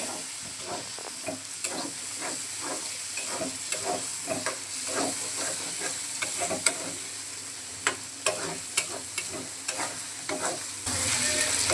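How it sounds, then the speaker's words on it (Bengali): Chicken pieces stir-fried with ground spices and coriander powder in a pan with a splash of water, giving steady sizzling and hissing broken by rhythmic spoon scrapes and stirs, close and alone with no talk. "মাংসটাকে এখন মশলার সাথে কষিয়ে নেব"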